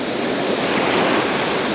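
Loud, steady roar of waves breaking on the south coast in a strong gale, dense surf wash mixed with wind buffeting the microphone, continuous and close with no voices.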